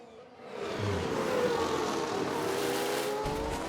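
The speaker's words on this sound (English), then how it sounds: "Oh, a nasty crash there. Hit the wall hard, spun around, broke a front wing." A racing car in F1 Manager 2022 at the Netherlands race hits the wall hard and spins, heard as a steady loud engine roar with tire noise that swells, then drops off sharply near the end.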